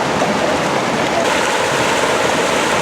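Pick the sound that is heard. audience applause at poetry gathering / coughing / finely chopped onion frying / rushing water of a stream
rushing water of a stream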